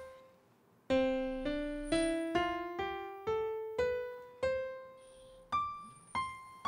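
A piano plays a rising scale starting on C, one note at a time at an even, unhurried pace, each note ringing and decaying, alone with no talking.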